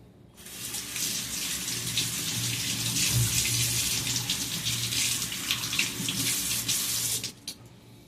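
Tap water gushes steadily into a sink while kola fish is being cleaned. The stream is loud and continuous for about seven seconds, then cuts off abruptly.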